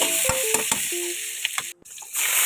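Garlic, onion, chili and tomato frying in hot oil as a spoon stirs them, a bright crackling sizzle broken by several sharp clinks and scrapes against the pan, close and loud, no voices.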